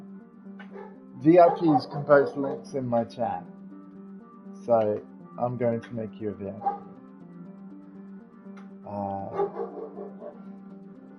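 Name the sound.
dog barking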